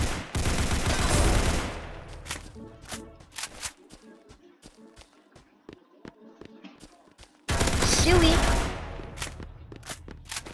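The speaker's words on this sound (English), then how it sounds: "I'm already getting shot at." Bursts of gunfire in the tactical shooter game Rush Point, with loud sustained volleys at the start and end and scattered sharp single shots in between.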